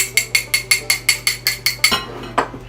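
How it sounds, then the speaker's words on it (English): An egg is whisked in a bowl for chocolate fudge cookies, a quick regular series of about a dozen sharp clinking taps against the bowl, close and fairly loud over a low hum, then a pause and one last tap. "while the butter melts, I'm going to whisk the egg"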